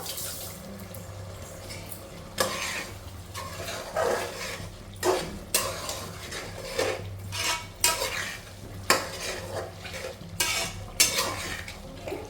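Coriander powder is stirred into spices for a home-made mutton curry, with repeated scraping and clattering of a spoon against a pan, some strokes loud and sharp, over a low hiss.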